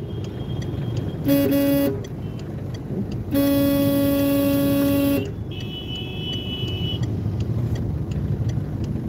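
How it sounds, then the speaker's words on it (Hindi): Cars sit in a traffic jam on a road in India, with steady engine and traffic noise throughout. Two long car horn blasts sound close by, followed by a higher, thinner honk. "उन्होंने पूरा ट्रैफिक जाम कर डाला है।"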